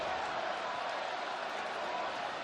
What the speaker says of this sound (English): We got the Joe Flacco chant going